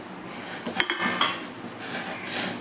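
Cooking pot lifted off a switched-off stove and set down, giving a couple of clanking metal knocks and scrapes close by, without any talking.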